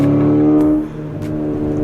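Ford Focus RS or VW Golf R all-wheel-drive hot hatch revving hard from inside the cabin, a loud, steady engine drone that drops off abruptly partway, then settles to a lower hum with brief whooshes.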